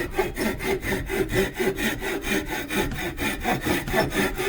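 A cut-off saw cuts a turned wooden piece free from the lathe, giving a steady, rhythmic back-and-forth rasp with regular strokes. It is close and continuous, with no talk.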